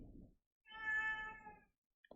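A cat gives a single clear, drawn-out meow, fairly close and moderately loud, with brief quieter rustling before and after it.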